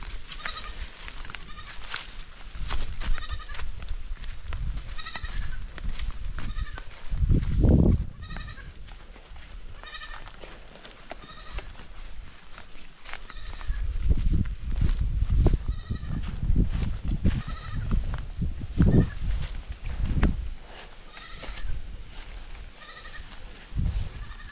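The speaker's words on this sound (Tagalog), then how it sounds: "Yan, papalabas ko pa lang nitong mga kambing mga kabayan." Goats on a farm bleating repeatedly as they are let out of their pen, many overlapping calls near and far over a continuous shuffle of movement, with no talk.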